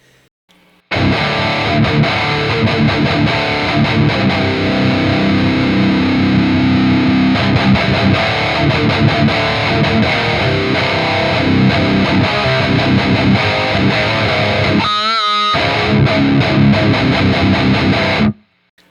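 Heavily distorted electric guitar through a high-gain amp's red channel chugs and rings continuously, loud and alone, with a brief squealing slide near the end.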